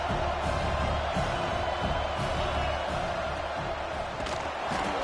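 Dense, steady roar of a football stadium crowd at a Stanford vs Notre Dame college game, loud and continuous with no clear breaks.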